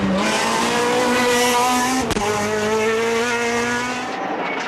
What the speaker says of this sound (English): No such troubles for Tommy Doyle in a fine 4th place with the R3 Clio